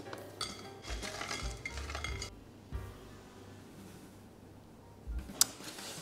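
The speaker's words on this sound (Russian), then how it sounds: "Складываем их на тарелку." Crisp potato-chip meringues are set onto a plate, making light clinks and brittle taps against the dish in a few quiet bursts with pauses between them.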